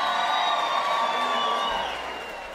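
A concert crowd at a loud live show roars and cheers in a dense, sustained wash of voices, steady and then easing off slightly toward the end.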